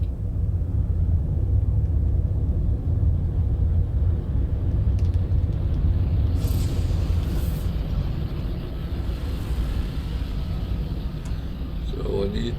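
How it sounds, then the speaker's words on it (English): Deep, sustained low rumble of an incoming storm in a video game, steady and loud throughout with a faint hiss rising partway through; no one talks over it. "Incoming storm."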